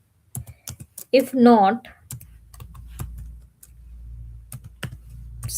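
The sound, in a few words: typing code on a computer keyboard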